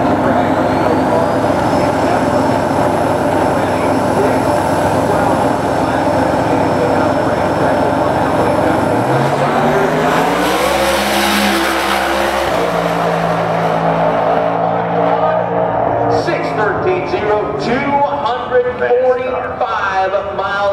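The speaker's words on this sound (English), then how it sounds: "The world's fastest drag radial car going another round" Drag radial race car making a drag run, its engine a loud sustained roar that drops sharply in pitch partway through, followed by rumbling and a separate engine note, with no speech over it.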